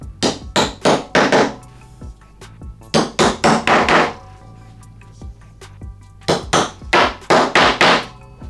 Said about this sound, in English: So hammer in those at the corners.